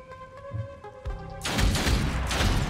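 Gunfire from the game Othercide breaks out partway through as a loud, dense volley. Before it comes a quieter tonal musical bed with a few low thumps.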